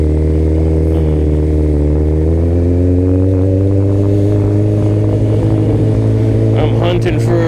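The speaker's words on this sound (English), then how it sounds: "Ducati." A Ducati motorcycle engine running during a night ride in NYC, a loud, steady mid-pitched idle with a rough, harmonic drone that holds throughout, and a brief clatter near the end.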